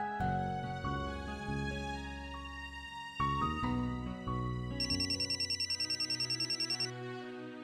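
A telephone ringing for a call plays as a melodic ringtone, then a rapid trilling ring pulses steadily over it near the end, clear and unaccompanied by talk.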